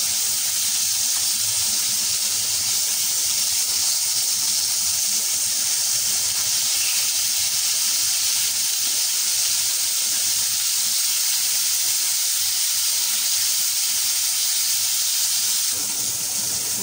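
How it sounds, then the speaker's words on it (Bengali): Salted rohu fish pieces frying in oil, a loud, dense, unbroken hiss and sizzle that holds steady from start to finish with no talking. "মাছটা একবার ভাজা হয়ে গেছে, উল্টিয়ে নেব।"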